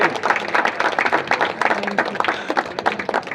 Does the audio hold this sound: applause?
yes